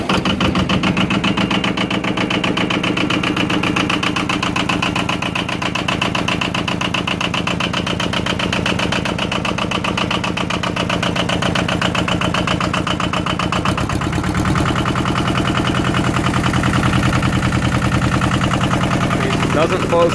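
A Yanmar YM2000 compact tractor's engine runs steadily and loud throughout, its tone shifting as it revs up partway through.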